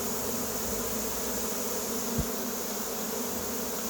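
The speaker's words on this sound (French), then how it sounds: "Des abeilles, il y en a." A steady, dense buzzing of a honeybee swarm fills the air continuously, with one brief low thump partway through.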